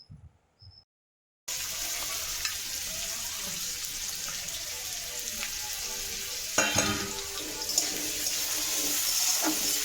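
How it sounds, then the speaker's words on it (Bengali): Chopped garlic and onion frying in a pan for white sauce pasta, a steady close sizzle that starts after a brief quiet moment, with a few louder stirring scrapes later on. "এর মধ্যে দিয়ে দেবো কুচনো রসুন। তো এইভাবে কিছুক্ষণ ভাজা ভাজা হবে"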